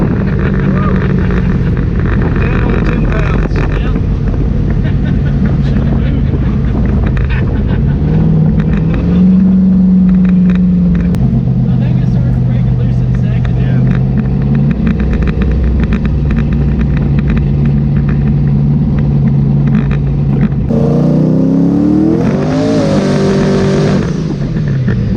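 Turbocharged street car revving hard during an outdoor street dyno pull, a loud sustained engine drone with rising and falling pitch and a sharp rev climb near the end, with wind buffeting the microphone and some talk.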